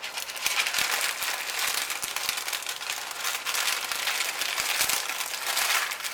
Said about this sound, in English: Wrap it, put that side down a bit.